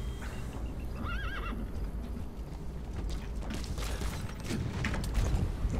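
A horse in the video game Metal Gear Solid V gives one clear neigh early on, followed by rumbling hoofbeats and game ambience that build in loudness toward the end, with no talk.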